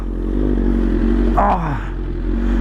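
BMW M1000RR motorcycle fitted with an Arrow full-system exhaust, revving in a garage: a steady close engine drone with one quick rev that swells and then falls away.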